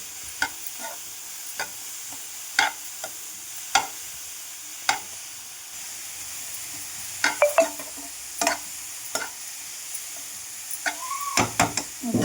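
Grated carrot sautéed and stirred in a pan for carrot halwa, giving a steady soft sizzle with scattered scraping clicks of the spoon against the pan, close and moderately loud.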